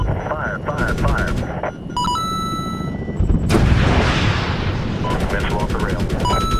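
Helicopter gunfire engaging enemy targets in the Medal of Honor (2010) video game, with loud repeated bursts of heavy automatic fire and booming impacts over a constant rotor-like rumble, interrupted by radio-style beeps and tones.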